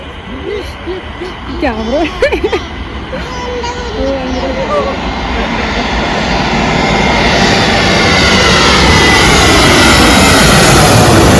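An airplane passes overhead, its engine roar swelling from faint to loud and steady over several seconds, while people talk in the foreground early on.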